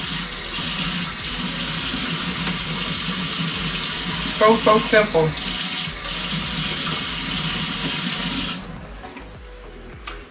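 Tap water runs steadily into a pot for several seconds, a broad hiss under brief speech, then the flow cuts off.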